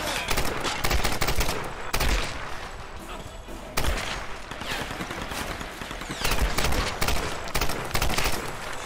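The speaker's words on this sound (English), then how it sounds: "We're jumping right back into the goddamn shooting out. Guns blazing." Dense, continuous gunfire in a Tomb Raider (2013) shootout, rapid bursts and sharp cracks layered over a loud, busy battle din, with a few heavier impacts punctuating the clip.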